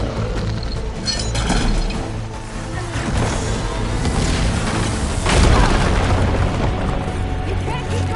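Machine firing and exploding in Horizon Forbidden West, heavy booms and rumbling blasts layered over continuous game noise, with a sharp loud burst about two-thirds through.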